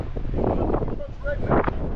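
Gusty wind buffets the microphone in a steady low rumble at an agricultural farm machinery sale, with voices talking faintly underneath.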